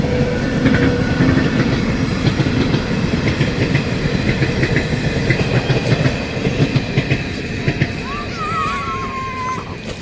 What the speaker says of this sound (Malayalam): അടുത്ത ട്രെയിൻ പോണു കേട്ടോ